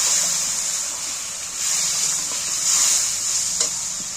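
Dry spice paste loosened with a little water sizzling hard in a pan for a prawn curry with taro and long beans, a constant loud hiss with occasional scrapes of stirring.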